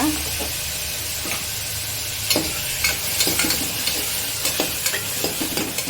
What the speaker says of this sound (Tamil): இப்போ தக்காளி வந்து நான் ஒரு 2 தக்காளியை வந்து சாப் பண்ணி வச்சுருக்கேன். அதை வந்து ஆட் பண்ணிக்கோங்க.